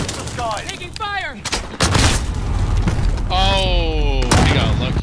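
Gunfire in Call of Duty: Modern Warfare comes as loud, sharp bursts and booms. Voices and whistling tones can be heard between and under the shots.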